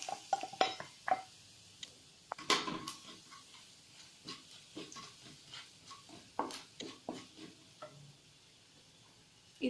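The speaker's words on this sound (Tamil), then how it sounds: "கடுகு நல்லா பொரிய ஆரம்பிச்சிருச்சு" Mustard seeds popping and crackling in hot oil in a pan while a spicy pepper rasam is being made. The pops come as a scattered run of sharp, close ticks and snaps of varying loudness, with no talking.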